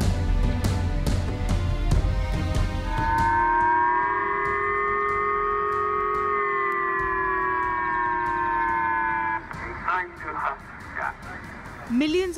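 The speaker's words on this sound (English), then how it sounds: "Millions of Japanese woke up to the sound of blaring sirens and emergency phone alerts" Civil defense sirens in Japan blare in long, sustained wailing tones during a North Korean missile alert, loud and steady, before giving way to barking dogs and other noise at the end.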